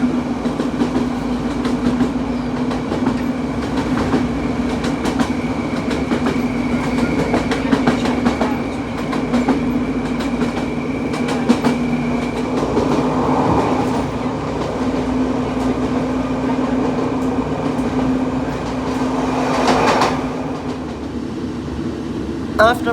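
A GWR passenger train runs along the Dartmoor line near Crediton, with a steady rumble, faint rhythmic wheel clicks and a constant hum, recorded from inside the carriage. A voice talks over it.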